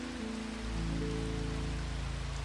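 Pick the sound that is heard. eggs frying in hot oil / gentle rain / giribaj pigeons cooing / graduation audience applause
gentle rain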